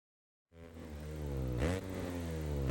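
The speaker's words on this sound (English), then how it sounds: "here we have the KTM 690" A KTM 690 motorcycle engine in Monster Energy Supercross 3 starts up after half a second of silence, then revs loudly and steadily with a brief pitch dip and climb midway, alone and close.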